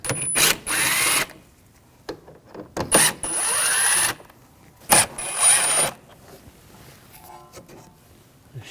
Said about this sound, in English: Now I'm going to take these screws out, use a T25 socket.